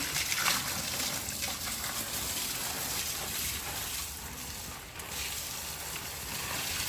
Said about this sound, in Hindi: यहाँ पे पौधों के लिए पानी।